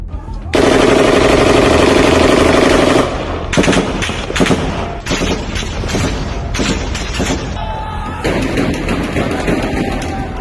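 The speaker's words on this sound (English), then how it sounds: "Then, around 11:37, heavy gunfire started." Heavy gunfire erupts loudly during the Islamabad massacre, a sustained burst of rapid automatic fire followed by dense overlapping shots and cracks continuing throughout.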